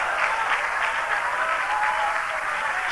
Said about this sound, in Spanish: ¿Cuántos le dan un aplauso al Cristo de la gloria?